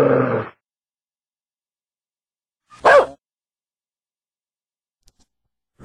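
A voice run through MorphVOX Pro voice-changer software on its dog setting gives two short, separate barks, one at the start and one near the middle, with silence between them. It is a human voice imitating a dog.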